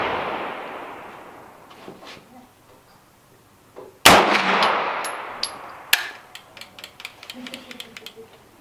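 A handgun fires a single sharp, loud shot at an outdoor shooting range after a few quiet seconds, followed by ringing metallic clinks and scattered clicks as the gun is handled.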